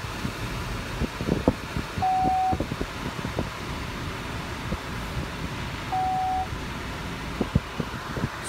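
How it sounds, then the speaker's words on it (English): A 2017 Chevrolet Malibu reversing into a parking spot under automatic parking assist, giving a steady low engine and road hum with light wind noise, a few brief knocks, and two short electronic tones sounding about four seconds apart. "So now the vehicle has found a spot. It's telling me to reverse. So we're going to reverse."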